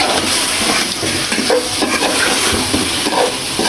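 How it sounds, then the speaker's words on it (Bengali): Spiced chicken roast is stirred in a frying pan, giving a continuous loud sizzle with scraping spoon strokes and no talk. "এখন হচ্ছে ভালো করে নেড়ে ছেড়ে দেবো।"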